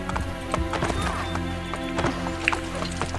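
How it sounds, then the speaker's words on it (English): Hooves of a war horse clip-clopping through a busy scene in Assassin's Creed Brotherhood, with a whinny near the end, steady rhythmic footfalls over a dense game soundscape. "Can I have your horse? Yes, I can! I have a war horse."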